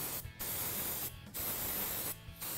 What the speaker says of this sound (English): I'm still gonna use a little bit of cooking spray